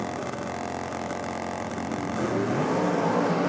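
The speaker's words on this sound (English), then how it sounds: "A bit of purge of the nitrous there for Josh." Nitrous purge on a drag racing car at a championship meet, a steady loud rushing hiss blending with engine and crowd-area noise, swelling slightly toward the end.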